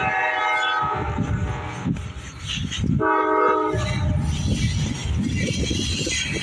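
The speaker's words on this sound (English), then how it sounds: "It's a CSX grain train." A CSX grain train runs northbound on track two at Marion Union Station in Marion, Ohio, its loud horn blaring in long blasts over the constant rumble and clatter of passing cars, heard nearby.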